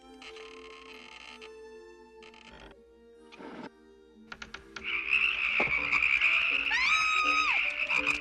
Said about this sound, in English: You mean they were turned into frogs?